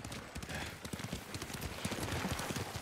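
Horse hooves clip-clop in the Ghost of Tsushima video game, a quick, irregular run of soft thuds fairly close by, playing alone at a low level.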